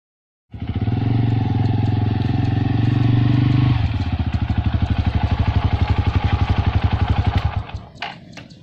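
Sundanese village motorcycle engine running steadily and loud, a smooth drone that shifts at mid-clip into a rhythmic pulsing idle before cutting off with a few clatters.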